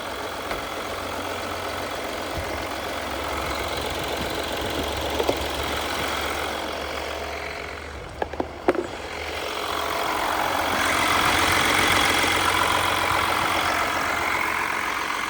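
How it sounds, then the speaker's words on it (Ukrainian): An Audi car engine idles steadily throughout, a low continuous rumble with a few brief clicks near the middle and a slight swell in the second half. "Двигун працює адекватно"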